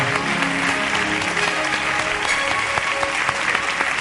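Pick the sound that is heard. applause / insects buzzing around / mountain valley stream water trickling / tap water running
applause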